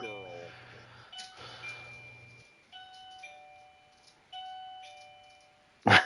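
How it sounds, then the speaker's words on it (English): A doorbell rings with clear, sustained electronic chime tones in a sequence of notes, mixed with a voice and other sounds near the start and ending in a loud burst. "I think somebody's ringing your doorbell."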